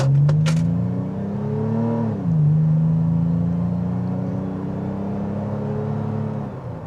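A 2022 Toyota 4Runner TRD Pro, a four-wheel-drive off-road SUV with a 4-liter V6, pulls away from a red light, its engine droning and rising in pitch, dipping at a shift, then holding a steady hum heard from inside the cabin.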